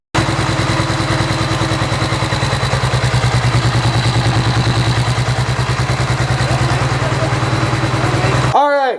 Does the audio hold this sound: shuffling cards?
no